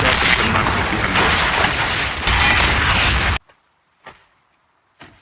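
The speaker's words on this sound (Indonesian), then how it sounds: "Ledakan besar terjadi." A large bomb blast in an action film roars as a loud, broad rumble for over three seconds, then cuts off abruptly. Two faint clattering hits of debris follow in near silence.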